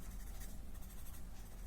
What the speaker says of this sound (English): just blend the pencil.